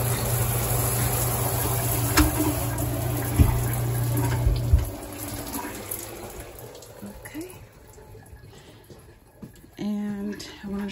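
Water gushes steadily from a shower inside a converted bus, loud and close for several seconds before cutting off and fading into quieter room noise, with a person speaking partway through.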